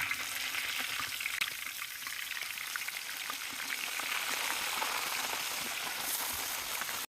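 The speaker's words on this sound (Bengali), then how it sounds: "আগে কড়াইতে তেল দিয়ে এলাম মাছ ছাড়িয়ে দিলাম" Pama fish frying in hot oil in a wok, a steady bright sizzle that holds evenly throughout with faint crackles and no talking.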